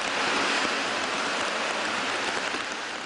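Heavy rain pours down steadily while rainwater floods low-lying streets, a dense, continuous hiss and wash of falling and running water with no voices.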